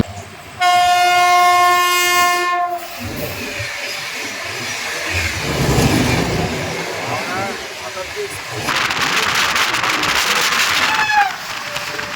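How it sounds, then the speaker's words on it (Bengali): The Puri Howrah Shatabdi Express approaches with a loud, sustained horn blast, then rumbles and hisses past nearby, while a person speaks over the passing train. "সামনে থেকে আসছে শতাব্দী এক্সপ্রেস"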